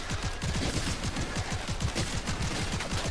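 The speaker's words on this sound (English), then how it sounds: "Gonna use the pistols for a few seconds here." Rapid pistol fire in the video game Seraph, a dense run of sharp cracking shots repeating quickly and loudly for the whole stretch, with no talk over it.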